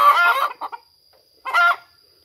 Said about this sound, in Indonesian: Tuh cara ayam ya, cara ayam kalau misalnya ada yang mau bertelur gitu, dianya kayak gitu